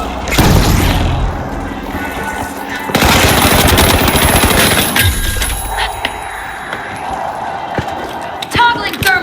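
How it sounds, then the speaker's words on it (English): Glitch grenade going off in The Finals amid loud gunfire, with sharp bursts and a dense crackling blast, followed by scattered shots and other game effects, voices talking over the action. "Using glitch grenade!"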